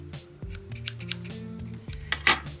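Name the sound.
scissors trimming fluff from crocheted yarn elephant tail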